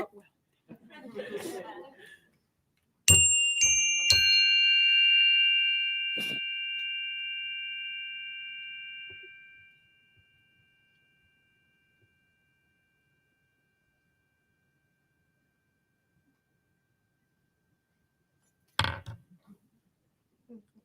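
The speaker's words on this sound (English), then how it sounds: "Leader rings the chime. Listen when you can't hear it anymore." A chime struck once during a mindful listening exercise at a school board meeting rings out with a clear sustained tone that slowly fades to silence, preceded by brief talking and followed by a short voice near the end.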